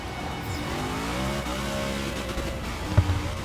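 A V8 Supercar race car drifting at Laguna Seca in a racing video game, a continuous engine roar with rising and falling revs, a shift in pitch midway and a brief thump near the end.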